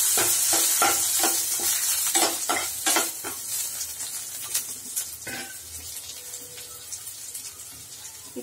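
Curry leaves and dried red chillies dropped into hot oil with sautéed onions for avarakkai poriyal, a loud bright sizzle with crackling pops and spoon scrapes that gradually settles, no voices.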